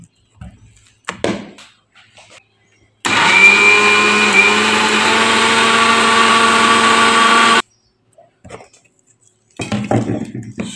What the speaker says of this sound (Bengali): ব্লেন্ড করা হচ্ছে।